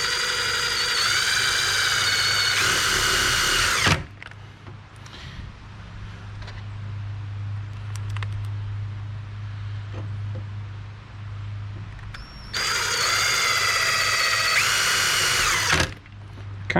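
A drill drives self-drilling, self-tapping screws into deck railing brackets on a Trex railing. Two loud, close bursts of whirring at the start and near the end are separated by a quieter stretch of low hum and small knocks.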